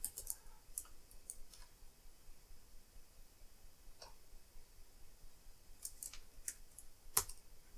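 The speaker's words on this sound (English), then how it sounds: "let me type this command because I always spell this wrong initially" A command is typed on an Apple IIgs computer keyboard: scattered faint clicks and key taps with irregular gaps over quiet background hiss.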